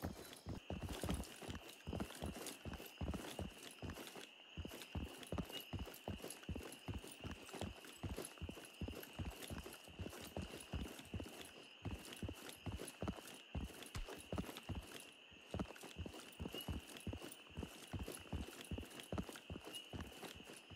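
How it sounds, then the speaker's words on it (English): Footsteps running in an extraction shooter video game, a fast, steady run of hard, clopping steps that carries on without a break under a constant high tone. No voices come through. "I hear footsteps but no voice."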